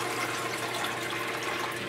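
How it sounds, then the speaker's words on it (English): Water pump of a reef aquarium filter system circulating water through the tank, a steady close rushing and trickling flow with no breaks. "the water pump for the filter system's now plugged in, and it should be circulating water through the system"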